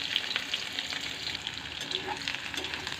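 Onion, garlic and dried red chillies frying in oil in a wok: a loud, dense, continuous sizzle with a fine crackle running evenly through the whole stretch.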